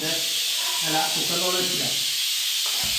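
A pressure cooker releases steam with a loud, steady hiss that runs unbroken throughout, while a voice talks faintly underneath.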